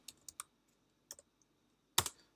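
A computer keyboard typed on while entering a number in SketchUp, a few quiet separate key clicks at irregular spacing and then a louder final key press, with no talk.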